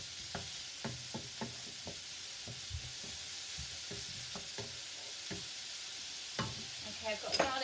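Mince and garlic fry in a pan under a soft, constant sizzle while a spoon stirs through them, scraping and knocking against the pan in irregular light taps close by.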